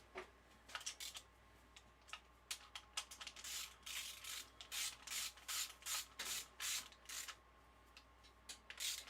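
An Allen wrench tightens a bolt during final assembly of a VR6 engine, giving faint, close, repeated short scraping strokes in an uneven rhythm with no talking.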